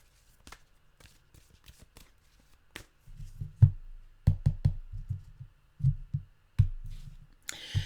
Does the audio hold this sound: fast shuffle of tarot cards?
yes